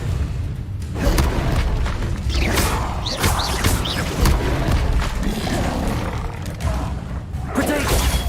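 A fire spell from the Hogwarts Legacy video game bursts with dense, booming impacts and whooshing flames in a busy combat mix, sustained and loud across the whole stretch.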